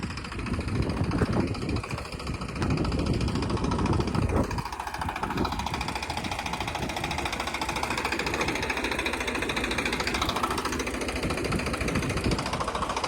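A steady Farmtrac 60 55 hp tractor engine drones throughout while ploughing a field, rumbling and chugging without pause over wind noise, with no voices.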